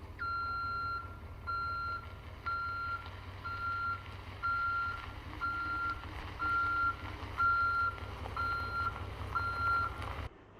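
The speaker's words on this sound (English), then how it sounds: "I also removed the reverse beeper" Reverse beeper on a Silverado Duramax L5P pickup truck, sounding a steady run of evenly spaced loud electronic beeps over a low engine rumble, continuing for about ten seconds with no talking.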